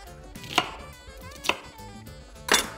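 Three sharp knife chops through an onion on a cutting board, cutting it into coarse pieces, spaced about a second apart, close and clear with no talking.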